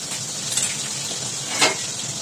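Pabda fish frying in an aluminium kadai over a lowered flame, a soft steady sizzle with a couple of faint scraping clinks.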